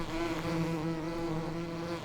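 Bees buzzing around a beehive in the farming video game Farming Simulator 2017, a steady, droning hum with a constant pitch that holds without pause, fairly soft and heard alone.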